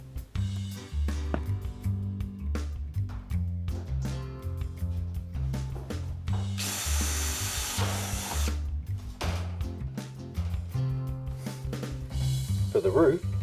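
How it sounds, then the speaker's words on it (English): A power drill boring fixing holes through metal shed panels, heard as repeated whirring bursts with a steady rhythmic motor pattern, close and fairly loud, with some hissing noise partway through. "Drill the fixing holes on each panel as instructed."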